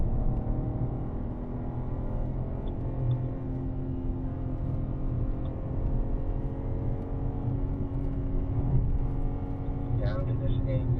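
A BMW M car on a race track holds a steady, droning engine note with a rich harmonic whine, sustained at constant load throughout while a driver talks over it.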